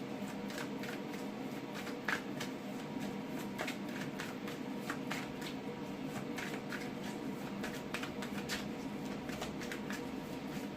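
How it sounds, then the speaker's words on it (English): Tarot cards shuffled by hand in steady, continuous riffling and sliding, with dense rapid clicks of card edges throughout at close range, quiet and without talk. "My arm's aching where I'm shuffling"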